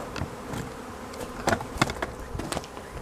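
Honeybees buzzing at a beehive in a weakened colony, a dense steady drone with scattered louder buzzes and brief knocks as insects pass close.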